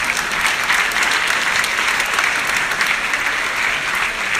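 An audience applauds at a jewellers' mega prize draw held in a hall, with loud, dense clapping from many hands that stays steady throughout.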